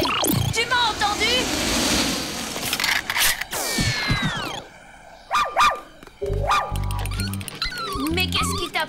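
A cartoon dog barks, yips and whimpers in a series of bright, close barks mixed with animated sound effects, with French-speaking characters talking over and between them.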